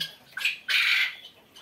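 Two short, sharp quail squawks sound close by on a quail farm, one brief and one longer, with a faint chirp trailing after.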